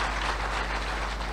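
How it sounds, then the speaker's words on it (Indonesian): A church congregation claps steadily through a Christian sermon, forming a dense, even wash of applause close by and without pauses. "Yang setuju boleh dong tepuk tangan buat Tuhan Yesus"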